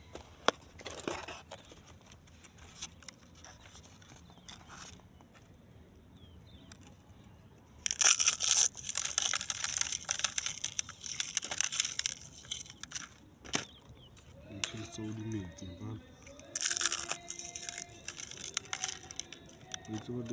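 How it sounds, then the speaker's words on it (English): Eggshells being crushed into small pieces for garden use, a dry crunching and crackling that bursts in loudly partway through and continues in rough, uneven clusters, with quieter rustling before it and a voice talking. "Save your eggshells and crush them into small pieces."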